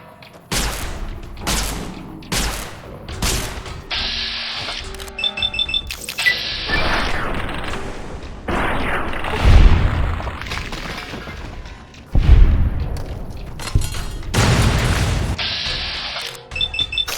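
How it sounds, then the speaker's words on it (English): Plasma grenades go off one after another in the video game Fallout: New Vegas, a series of loud, sharp bursts with crackling, electronic-sounding tails, separated by short gaps and a few heavier booms. "But he used all his plasma grenades."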